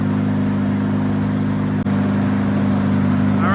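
A big-turbo Honda Civic engine holds a loud, steady drone on a dyno pull with an aftermarket inlet intake kit, one brief dropout near the middle, and no talking.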